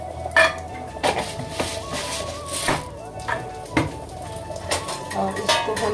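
Lentils are stirred and turned in a frying pan with a spatula, giving irregular metallic scrapes and clinks over a soft sizzle while someone talks.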